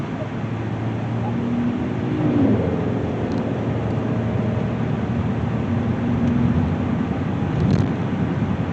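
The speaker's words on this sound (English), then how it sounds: "I think every car that I've had on this road, I think's got some kind of road noise. It's either road or tire noise." Steady broadband road and tire noise inside a moving 2016 Kia Sedona, a continuous low rumble and hiss that holds even throughout with slight swells and no voices.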